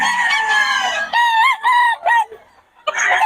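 An early-bird WPC banded gamefowl rooster crows loudly and close by, giving a few strained, rising calls in quick succession with short gaps between them.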